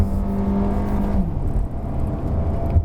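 An Audi Q3 with a 1.4-liter engine producing 150 PS accelerates on a hillclimb, with a close, steady engine drone whose tone slides downward, heard from inside the car with no talking.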